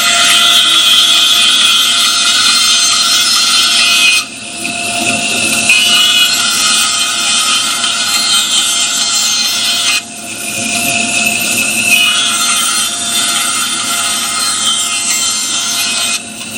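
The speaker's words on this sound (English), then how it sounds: "once I get it over to the bandsaw, is I want to trim those tips off" A bandsaw trimming the tips off a wooden piece in a workshop, a loud steady whining hum with rasping cuts, briefly dropping in level twice as the wood is fed through.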